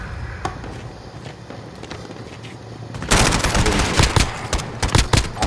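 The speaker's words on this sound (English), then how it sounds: "Assault rifle." Assault rifle fire rattles in Call of Duty Modern Warfare 2019, scattered single shots at first, then a loud, dense burst of rapid automatic gunfire up close for the last couple of seconds.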